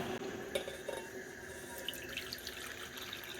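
Water pours into a bowl of rice flour while making batter for chitoi pitha, a soft continuous trickle and splash heard close and fairly quiet, with no talking.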